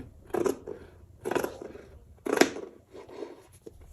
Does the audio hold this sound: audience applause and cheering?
no